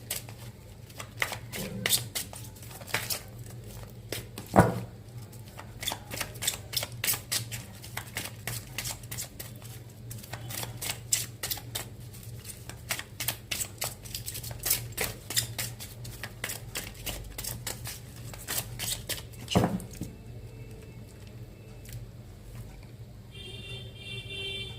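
Tarot cards are shuffled and drawn close by, with rapid bursts of crisp riffling and flicking that come in quick runs, broken by short pauses and a few sharper slaps as cards are laid down.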